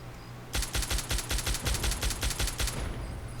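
Raiders fight with grenades and gunfire in Fallout 3: a rapid burst of about a dozen sharp gunshots in quick, even succession, loud and close, then an abrupt stop.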